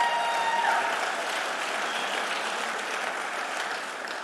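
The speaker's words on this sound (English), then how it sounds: "a big round of applause, please." At a church gathering welcoming new guests, a crowd applauds steadily in a full, even wash of clapping that fades slightly toward the end.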